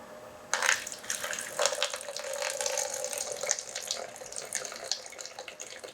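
Water runs from a tap into a measuring container for soap making, a steady close-up pour lasting several seconds with a sharper splash near the start.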